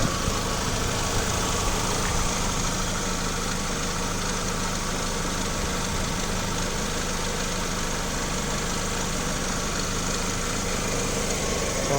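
A Mitsubishi Lancer Cedia car engine runs at a steady idle, a continuous close-up hum with even vibration and no talk over it.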